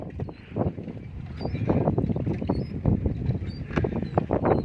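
Wind rushing past a small boat on open water, a steady broadband whoosh with irregular gusting and water splashes throughout, with no speech over it.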